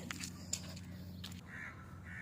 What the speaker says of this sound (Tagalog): uwak yan.